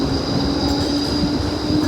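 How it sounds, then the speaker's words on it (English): A Melbourne tram rolls past nearby in a steady, continuous rumble with a faint wheel whine, holding even loudness throughout and no voices. "that was the tram that we were supposed to take"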